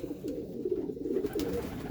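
Racing pigeons coo in a loft, soft low throaty calls repeating in a rolling rhythm, close and fairly quiet with no talk.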